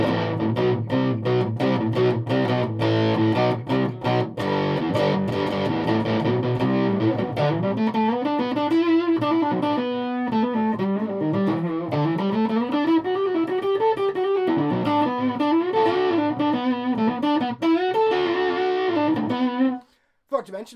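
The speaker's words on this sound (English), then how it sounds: "so this is vintage distortion" A heavily distorted electric guitar plays continuously, with thick, buzzing chords and then wandering single-note lines, loud and close, stopping abruptly near the end.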